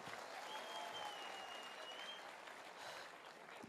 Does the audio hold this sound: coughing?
no